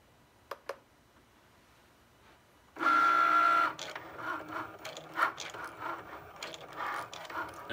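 A Cricut Maker cutting machine starts up after a couple of soft clicks with a steady, loud motor whir, then settles into a continuous mechanical hum with shifting clatters and rhythmic servo movements as it begins drawing.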